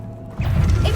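Revelio spell cast in Hogwarts Legacy: after a brief quiet moment, a sudden heavy whooshing crash bursts out and rumbles on loudly, a deep magical blast with crackling texture.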